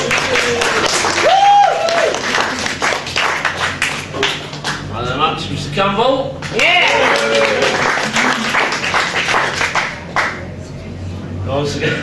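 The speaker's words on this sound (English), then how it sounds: "Round of applause." Crowd applause and cheering at a Hull Stingrays versus Coventry Blaze ice hockey post-match interview, dense clapping throughout with voices talking over it and a shout rising near the start.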